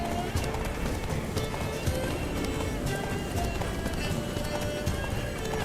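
Hooves pound in a fast, steady gallop as a horse runs in The Witcher 3 video game, with a continuous clip-clop rhythm over a busy, loud game soundscape.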